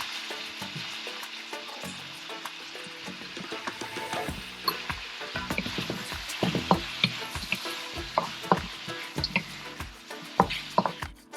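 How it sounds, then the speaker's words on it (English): Shrimp and green onion stirred in a hot pan with the heat just turned off, a close crackling sizzle with repeated scraping strokes that grow busier and louder toward the end, no speech. "I turned off the heat and we'll stir in the green onion"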